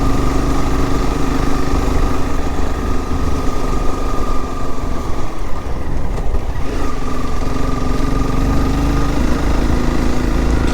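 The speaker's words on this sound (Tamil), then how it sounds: "ரெட் மான்ஸ்டரில் கொஞ்சம் டார்க் கம்மினால் கொஞ்சம் கஷ்டப்படுது மலை ஏற" A Honda CBR 250R motorcycle engine labors while climbing a mountain road, giving a steady, loud drone with a sustained tone that holds throughout without any talking.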